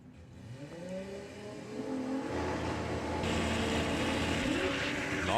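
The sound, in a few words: drag racing vehicle launching down the Santa Pod strip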